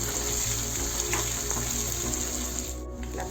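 Onions frying in a pan for dhaba-style aloo gobi, a continuous close sizzle and crackle with a slight dip in intensity near the end.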